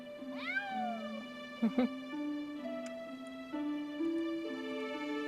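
A cat meowing in the video game Grim Fandango, a few close, clear mews rising and falling over a steady sustained musical background of held notes, with a brief sharp knock in the middle.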